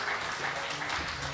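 Audience applause after a band's song at an outdoor corporate family day concert, a dense, steady wash of many hands clapping, close and continuous, with no voices over it.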